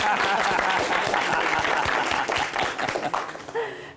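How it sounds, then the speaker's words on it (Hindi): Studio audience applause on a live Pakistani TV talk show, a dense wash of clapping that runs steadily and then thins out toward the end, with a few chuckles mixed in. "अब तालियां बजेंगी।"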